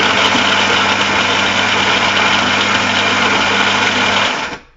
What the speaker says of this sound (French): si je lance la fonction expresso, la machine va prendre